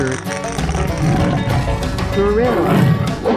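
A tiger roars in a 3D animal slide video game, a rising, growling call set against loud game music and effects.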